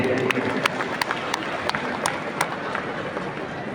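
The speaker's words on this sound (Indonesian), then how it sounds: "Tepuk tangan untuk Pak PJ" Audience at a campus digital creative festival in Bangkalan applauds the regional acting official, a steady broadband patter of many hands with sharp individual claps popping out, crowd voices mixed in.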